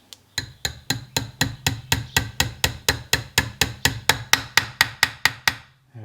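A dynamo shaft is tapped into place with around twenty sharp, evenly spaced hammer knocks in quick succession, close and crisp, with no talking.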